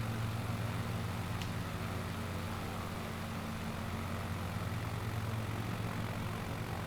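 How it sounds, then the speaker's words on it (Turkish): A small propeller plane engine drones in a flight simulator video game, a steady, dense broadband hum with a low rumbling tone that runs unchanged throughout, with no talk. "Pır pır uçağımızla sarı kızımızla uçağımızla"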